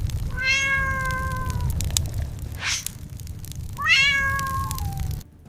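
A cat gives two drawn-out, close meows with a rustling, hissing noise between them, over a low rumbling background.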